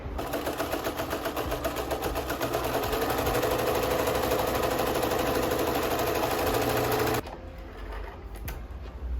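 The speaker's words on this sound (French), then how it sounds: "Je vais peut-être quand même faire une couture ici pour que ça tienne bien." Sewing machine running steadily as it stitches a seam on a tweed dress, a continuous loud rapid mechanical whir for about seven seconds, then stopping abruptly, leaving quieter handling noise.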